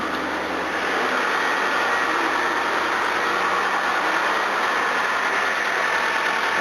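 A car engine idles steadily after an alternator repair. It gives a continuous, even hum and whir at close range, with no dropouts or surges and no voices.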